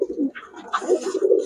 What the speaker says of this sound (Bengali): মাশাআল্লাহ, দেখেন 4 জোড়া কবুতর বলছে,